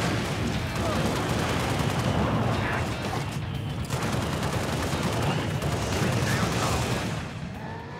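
Continuous dense gunfire and explosions from a Halo Reach campaign battle, loud and sustained throughout with rapid automatic bursts, fading slightly near the end.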